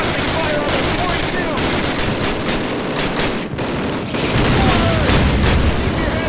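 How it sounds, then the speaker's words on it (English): Mortar blasts and gunfire in the World War II shooter Call of Duty, with dense continuous booms and rattling shots forming a loud, steady battle din throughout. "Whoa, mortars."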